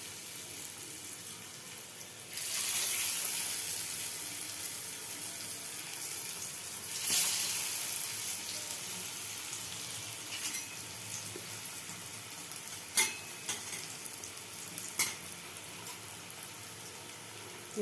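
Pieces of dhoka, Bengali lentil cake, dropped into hot oil and frying, a steady close sizzle that swells as they go in, with a few small clinks later and no talking.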